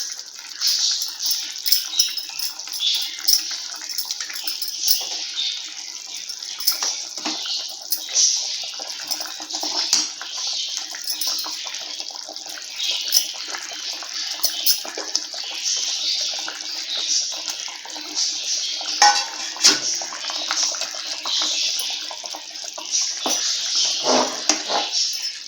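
Lentil vadas drop into a pot of boiling kuzhambu gravy, giving a steady hiss and crackling bubbling close by, with scattered clinks and plops throughout.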